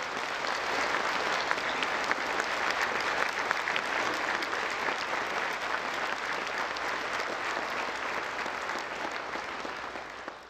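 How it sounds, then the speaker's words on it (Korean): A large congregation at a national prayer breakfast in Korea claps for the president and his wife, a long, even, dense round of applause that holds steady and then slowly tapers near the end. "이왕 박수 치는 거 우리 대통령님과 김건희 여사님께 다시 한번 박수"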